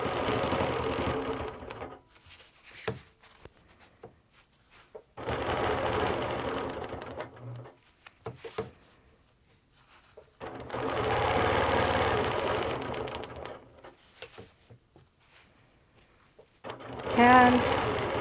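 Sewing machine stitching a quilt guided along a straight quilting ruler, running in several sustained bursts of rapid mechanical hum separated by pauses.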